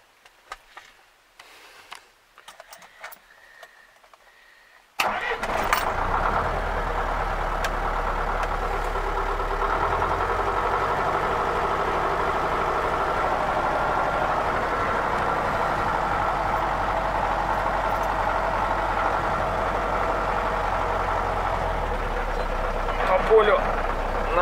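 A ZIL Bychok truck engine idles steadily with a low, constant rumble that starts abruptly after a few seconds of quiet, faint background sounds, then continues close and even with little change.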